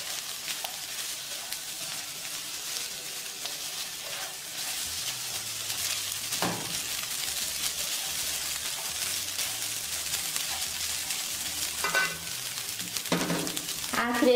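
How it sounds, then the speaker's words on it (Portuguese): Garlic sautéing in a pan for Brazilian biro biro rice gives a steady soft sizzle throughout, with occasional stirring clinks of a utensil against the pan. "Refogue mais um pouquinho."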